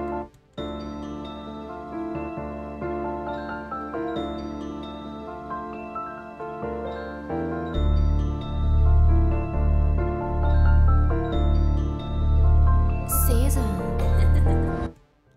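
Dark soul trap type beat sample with layered melodic chords, later joined by heavy pulsing 808 bass and trap drums, playing loud and alone.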